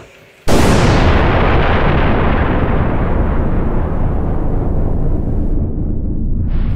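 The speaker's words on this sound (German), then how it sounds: "bitte rechnen Sie mit einer noch nie dagewesenen Druckwelle" A sudden, massive stage explosion blast erupts in a puppet theatre after a brief quiet, then a long, loud roaring rumble sustains for several seconds before fading slightly at the end.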